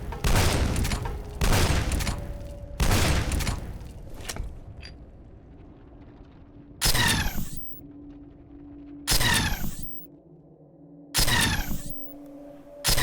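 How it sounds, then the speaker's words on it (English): Bursts of gunfire from the video game F.E.A.R. hit a trash can, with several loud rapid volleys early on and then three separate sharp bursts, each trailing off into a low ambient room hum. "You need to shoot a trash can into an upright position next to the shelf."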